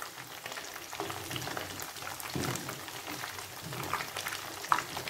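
Paneer and carrots coated in cornflour batter fry in hot oil for restaurant-style Paneer Chilli. A close, steady sizzle and crackle carries on throughout, with occasional stirring and clinking sounds and no talking.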